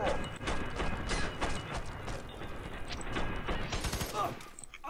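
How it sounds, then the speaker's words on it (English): Video game gunfire from F.E.A.R. 3, a dense run of rapid shots and mechanical clatter that carries on without a break under game sounds and some talk. "Still being shot at."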